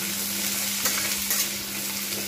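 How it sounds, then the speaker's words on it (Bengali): Potatoes stir-fried in a pan for a Bengali bitter gourd chorchori, giving a steady, close sizzle with faint scraping, and no talk over it. "এবার এতেই দিয়ে দেবো আলুগুলো জাস্ট আমি অল্প করে ভেজে নেবো এর সঙ্গে"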